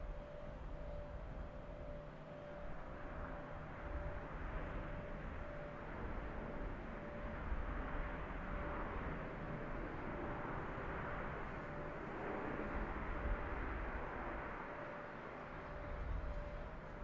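A Challenger 650 business jet in the X-Plane 12 flight simulator, using a non-standard sound pack, gives a steady low engine rumble and a faint constant tonal hum that carry on evenly throughout.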